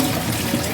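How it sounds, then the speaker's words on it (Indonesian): Cooking water poured off boiled soybeans, a brief steady splashing stream close up, continuous and fairly loud with no voices. "lalu kita buang dulu airnya"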